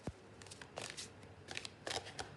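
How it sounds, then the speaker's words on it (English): A deck of tarot cards being shuffled by hand on a table during a reading, giving several short crisp riffling bursts spaced across the moment, fairly quiet and close, with no talking. "Two more shuffles."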